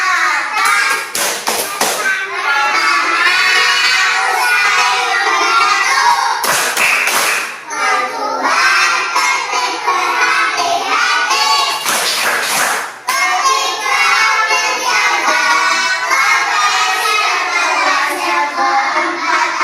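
A class of young children in an Indonesian school performs a rhythmic patterned clap chant, bursts of tapping and clapping alternating with their sung and spoken voices.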